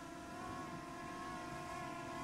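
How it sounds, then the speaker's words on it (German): A Potensic Atom drone circling nearby, giving a steady high-pitched propeller whine with a constant buzzing tone, fairly faint and unbroken, no talking. "Da wandert die Drohne um uns herum."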